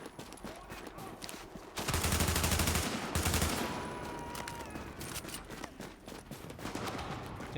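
Rapid gunfire bursts ring out in a shooter video game, a dense volley in the middle seconds with scattered shots around it, mixed with faint game ambience.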